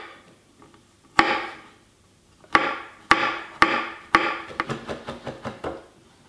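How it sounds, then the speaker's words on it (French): A knife comes down on a board to chop garlic finely, first in a few separate sharp chops and then in a faster run of lighter strokes, close and clear. "Une fois qu'on a dégermé tout notre ail, on va le hacher assez finement."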